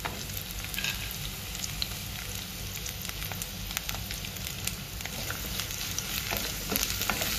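Chopped shallots crackle and sizzle steadily in hot oil for a crab roast, with scattered pops and faint stirring scrapes and no talk.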